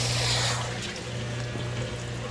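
Fresh water poured and mixed into a seawater tank holding mullet and black sea bream, a steady rushing, splashing flow over a constant low pump hum, fairly quiet and continuous.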